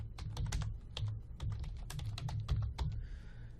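A script being typed on a computer keyboard, with rapid close clicking keystrokes in an uneven rhythm and no voices.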